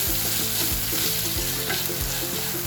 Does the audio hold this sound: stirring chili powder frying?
yes